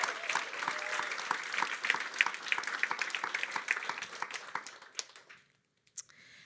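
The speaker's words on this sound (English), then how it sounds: "So one really big round of applause to all of the capstone mentors." An audience at a Google HQ demo day claps for capstone mentors, a dense, steady burst of applause that thins into a few scattered claps and then silence near the end.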